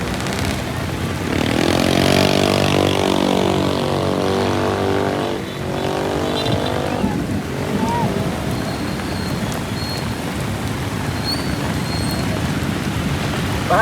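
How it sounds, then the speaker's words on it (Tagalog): A steady wash of heavy rain and rushing floodwater on Jose Abad Santos street in Tayuman, Manila, with a passing vehicle rumbling through early on and a constant noisy hiss throughout. "Sa ngayon kasi nakakaranas tayo ng pagkalakas-lakas na ulan no."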